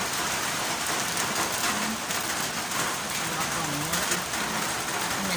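Steady rain falls outdoors during a cooking session, a dense even hiss of drops hitting surfaces that runs without break, fairly close and loud, with faint background voices at times.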